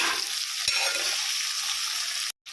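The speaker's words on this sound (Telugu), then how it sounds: "ఇవన్నీ ముక్కలకి మంచిగా ఆయిల్ ఈ తాలింపు అంతా పడుతుంది" Vegetable pieces fry and are stirred in hot sambar tempering oil, giving a dense, continuous sizzle with a scrape of stirring near the start. It cuts off abruptly at the end, with no talking.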